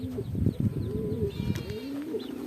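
Pigeons coo close by in soft, repeated phrases from birds circling near their loft, with faint chirps mixed in.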